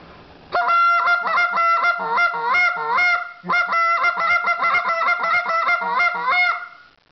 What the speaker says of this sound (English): a bunch of geese, aggressively calling to give them a reason to come over here